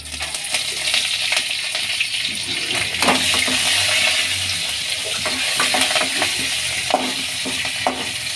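Byadgi chillies and curry leaves fry in hot oil for a tempering, giving a steady sizzle with scattered crackles and sharp pops close by.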